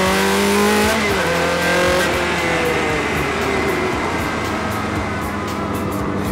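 A Ferrari sports car engine revs hard and loud, its pitch climbing and falling as it pulls past on the road.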